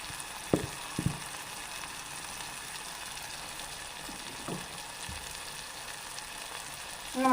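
A spiced onion mixture with asafoetida hisses gently in a pan as it is stirred, a faint steady sizzle broken by a few sharp spoon knocks.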